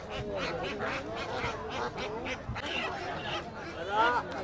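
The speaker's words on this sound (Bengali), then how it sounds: "এদিকটাতে দেখেন প্রচুর হাঁস আছে।" Ducks quack repeatedly at a busy market poultry stall where ducks and chickens are sold, their calls mixed into steady crowd noise with people talking nearby.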